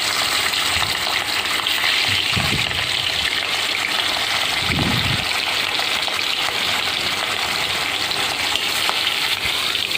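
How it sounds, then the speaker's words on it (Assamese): Boal fish frying in a little oil in a wok gives off a steady, loud, close sizzle for the whole stretch, with a couple of low bumps along the way and no talking. "কেৰাহীখনত অকণমান তেলত বৰালি মাছখিনি ফ্ৰাই কৰিব"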